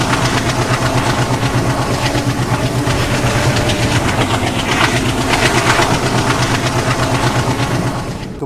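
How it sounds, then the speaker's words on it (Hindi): Two trains crossing on Indian Railways, one hauled by an EMD diesel locomotive, a loud steady engine drone with rumbling wagons and rhythmic wheel clatter rolling past close by, with no talk. "एल्को की क्रॉसिंग जो है वो एक EMD लोकोमोटिव के साथ हो रही है"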